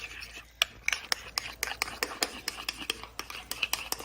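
Hot oats being mixed up for oatmeal, rhythmic scraping strokes of a spoon against the bowl, about a dozen evenly spaced, close and fairly quiet, with no talking.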